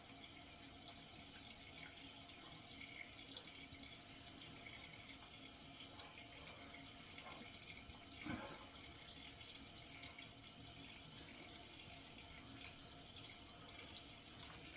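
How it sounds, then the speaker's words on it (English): Steady cold tap water pouring into a sink, a continuous broadband rush with one brief louder splash partway through. "I've switched the sink over to cold water so I can do my cold water splashes."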